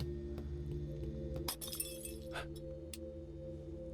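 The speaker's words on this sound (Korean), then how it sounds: "위에 전등 깨졌어" Light bulb shattering in a horror video game, sharp glassy cracks and clinks in a quick cluster over a low steady ambient hum, followed by a few fainter tinkles.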